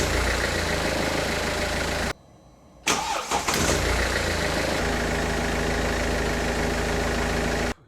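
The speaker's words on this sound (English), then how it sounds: "Now I will just start the engine and see how much the voltage will drop." A Mercedes-Benz W204 C180 CDI diesel engine is cranked and starts after a short drop in sound, then settles into a steady, close, loud idle with no talking.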